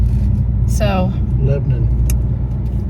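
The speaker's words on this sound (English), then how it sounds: "We're in the car. It's kind of rough." A car rolls along a rough road in Lebanon, Tennessee, with a loud, steady low rumble and vibration throughout, while a person speaks briefly over the road noise.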